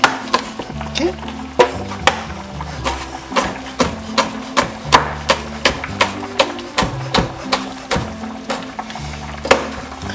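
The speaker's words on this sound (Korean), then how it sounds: "김치찌개 한다 그랬는데 이걸 또 칼질 한번 해줘야죠" A knife chops kimchi repeatedly on a cutting board in a quick, steady rhythm, sharp close knocks over a low background hum.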